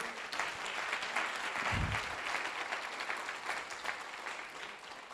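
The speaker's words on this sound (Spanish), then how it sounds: "Dar un aplauso al Señor, por favor." A church congregation breaks into sustained, dense applause, loud and even, with a brief low thump near the start and the clapping easing slightly toward the end.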